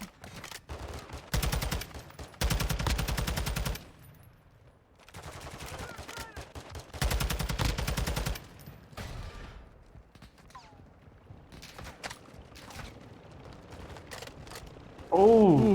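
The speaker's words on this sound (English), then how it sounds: "bro, I got a minigun" Minigun fire in an online shooter game: several long, loud, dense bursts of rapid fire separated by quieter gaps with scattered shots and mechanical clicks, and a final burst spinning up at the end.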